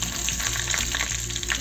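Mustard seeds, cumin and curry leaves crackle and sizzle loudly in hot oil, a close, dense, continuous frying hiss with rapid pops, tempering for an Udupi-style South Indian red chutney.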